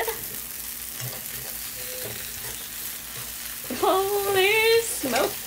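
A grilled cheese sandwich sizzles in a skillet with a soft steady hiss, and a voice briefly cuts in with a drawn-out exclamation near the end.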